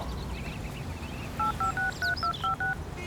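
A telephone keypad is dialed: seven quick beeping tones in rapid succession over a faint background murmur.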